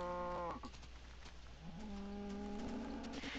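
Cows moo in the Minecraft video game, a synthetic bovine call at the start followed by another drawn-out, lower moo, with a faint steady background hum and no talking.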